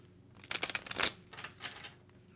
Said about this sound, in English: I'm going to shuffle and we'll get started.